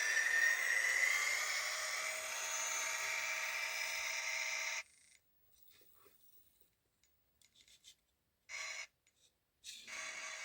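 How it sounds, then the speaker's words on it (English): The motor of an Atlas CSX GP40 model locomotive fitted with a sound decoder struggles to spin, giving a thin high whine that runs steadily for several seconds, then cuts out and returns only in short stuttering bursts with silent gaps. "Motor's having a little trouble spinning over."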